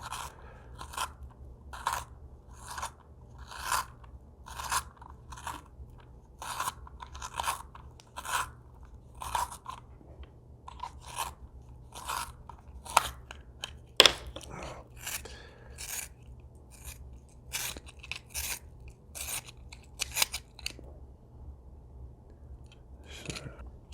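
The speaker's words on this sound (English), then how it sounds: "I cannot figure out where to put the batteries in this here pencil sharpener, so I'm having to do it the manual way." Pencil being sharpened by hand in a manual sharpener, a steady series of short dry crunching grinds repeating about once per second, close and fairly quiet over a low background hum.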